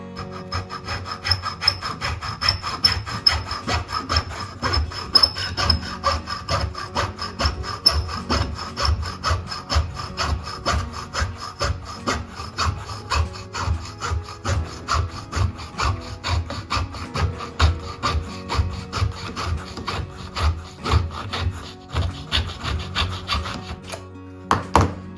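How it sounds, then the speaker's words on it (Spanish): A small hand saw cuts wood for the skeleton of a Santísima Trinidad ship model, its close, rhythmic back-and-forth rasping strokes continuing steadily throughout. "ahora con una sierrita pues cortamos"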